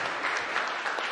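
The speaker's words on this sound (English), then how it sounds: "Another round of applause for Preston, who's doing a great job building Ontario." Audience applause at a Doug Ford press conference with labour and education ministers in Ontario, steady dense clapping from a crowd filling the short moment without pause.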